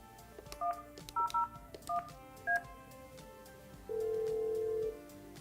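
Yealink desk phone dialing a call, a quick run of about seven short DTMF keypad beeps in an uneven rhythm, then a steady tone of about one second, clear and close with no voices.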